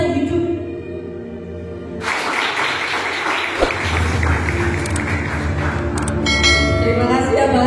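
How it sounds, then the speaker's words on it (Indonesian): Audience applause at an Indonesian success-story event, a broad wash of clapping rising after a musical passage and continuing steadily under music, fairly loud and close. "beri tepuk tangan lagi buat Mbak Haris yang luar biasa"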